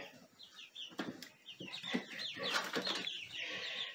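Backyard flock of Americana, Barred Rock and Whiting True Green chickens clucking and squawking, several birds calling close together in overlapping bursts with some wing rustle.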